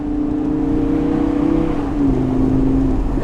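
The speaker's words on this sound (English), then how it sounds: "the Gallardo, just because it's got 2 extra cylinders, sounds better" A Lamborghini Gallardo engine hums and revs steadily up close, its drone rising slightly and shifting pitch midway, continuous and loud throughout.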